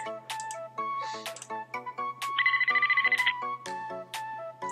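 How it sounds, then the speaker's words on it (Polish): A phone in a browser video game rings with repeated electronic trill tones against other short game beeps and chimes, close and clear with no talk. "To brzmiało jakby telefon dzwonił"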